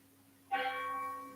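A single bell strike rings out and then sustains with a clear, slowly fading tone, heard alone against a faint background hum.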